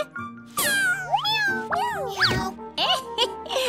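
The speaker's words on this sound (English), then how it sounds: "What a strange meow." Several cats meow in quick succession, with high, sliding, oddly warbling cries close by, overlapping one another.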